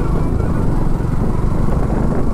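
A Suzuki Gixxer 155cc motorcycle on a Pune to Hyderabad highway ride gives a steady engine drone under heavy wind rush, loud and continuous throughout.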